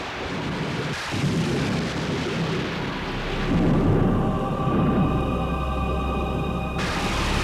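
A night thunderstorm rumbles loudly and continuously, deep rolling thunder layered over steady rain, with a sharp crack near the start and a sustained low roar swelling midway through.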